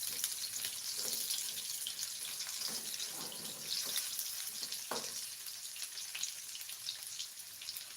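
Leeks fry in oil for a village-style nasi goreng, a soft, constant sizzle with light crackles running quietly throughout.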